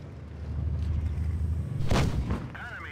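A tank cannon fires in the video game World of Tanks Blitz, a single booming blast rising out of a continuous low engine rumble, followed by a short mechanical whir.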